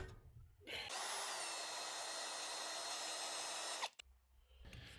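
A power drill whines steadily for about three seconds, bites into a steel pin, then cuts off, with quiet pauses before and after.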